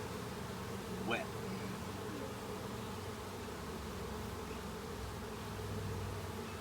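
Honey bees buzzing during an outdoor hive inspection, a steady dense drone of many insects with one brief louder pass as a single bee flies close, alone without talk.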